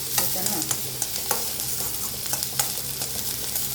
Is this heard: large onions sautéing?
yes